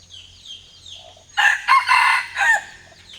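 A rooster lets out a loud, close crow in several strained bursts, with faint softer bird calls before it.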